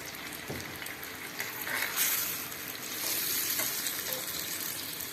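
Gooseberries are stirred in a pan over a medium flame, giving a steady close sizzle with soft scraping stirs and a few brief louder swells.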